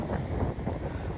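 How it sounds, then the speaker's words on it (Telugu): Strong wind at an ocean beach with a boat offshore, roaring continuously and buffeting the microphone in a loud, dense, low rumble with no pauses. "విండ్ స్పీడ్ అయితే భయంకరంగా ఉంది."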